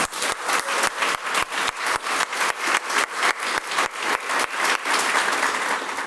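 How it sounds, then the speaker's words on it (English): Audience applause at the grand opening of a cancer patients' lodge in Houston, with steady, dense clapping that sustains at full strength throughout and has no voices over it. "let's start with a big round of applause for that"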